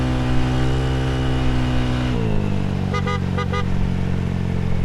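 A Yamaha Mio 63BV scooter engine droning steadily while riding and banking on a mountain road, its pitch dropping partway through with brief chirping sounds near the end, loud and close.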